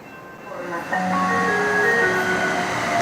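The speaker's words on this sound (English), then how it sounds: "Gold Line train towards downtown and East LA is now arriving." A Los Angeles Metro Gold Line light rail train rolls into a station with a rising metallic rumble and screeching wheel tones, the noise swelling and holding steady as it nears.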